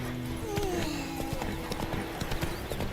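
Roach, a horse in The Witcher 3, clip-clops along at a steady walking rhythm, hooves close and clear, with a brief whinny-like tone and background game sounds.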